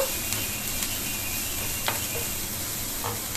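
Onions fry for a potato samosa filling, a dense continuous sizzle with a few light stirring scrapes, close and even in level with no talk.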